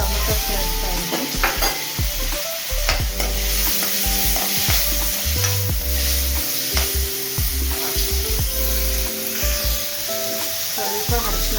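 Tomato stirred into a sizzling frying pan for a hyacinth bean sambar, with a steady loud sizzle and repeated scraping and clinking of a spoon against the pan throughout.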